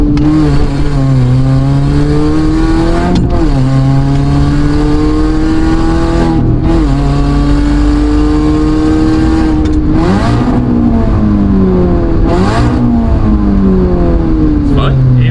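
Supercharged R53 Mini Cooper S with a six-speed manual accelerating hard, its exhaust rasping as the engine climbs through the revs in repeated pulls, with short dips at the gear changes.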